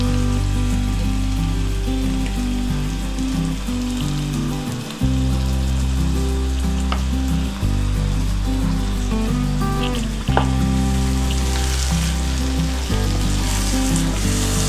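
A cup of yogurt hits a pan of kachnar keema, minced meat cooked with orchid tree buds, setting off a loud, continuous sizzle over a steady low hum.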